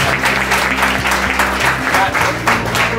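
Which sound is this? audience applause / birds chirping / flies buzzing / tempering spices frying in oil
audience applause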